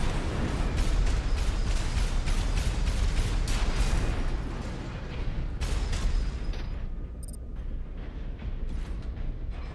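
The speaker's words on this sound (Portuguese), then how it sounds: "enquanto isso eu tô tomando um monte de tiro aqui" Mech combat in the video game Armored Core VI, with a dense barrage of gunfire and booming explosions over a rumbling low-end that thins out toward the end.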